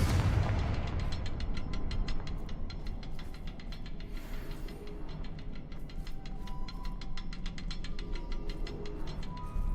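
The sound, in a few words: Confringo fire spell explosions in Hogwarts Legacy video game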